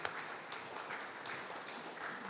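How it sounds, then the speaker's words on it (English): Audience at a poetry reading applauding the poets with even, continuous clapping, fairly quiet and distant, with no talk over it. "can we please give your loudest round of applause for the poets and for Mark"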